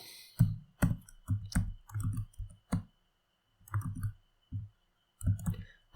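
Someone types quick bursts of clicks on a computer keyboard while correcting C code, with short pauses between the runs of keystrokes, close and clear.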